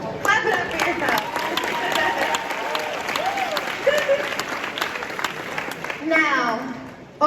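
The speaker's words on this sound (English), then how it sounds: "Clap it up for yourself" An audience at a Disney Dreamers Academy commencement ceremony claps loudly and continuously, dense applause with some crowd noise and a voice speaking over it.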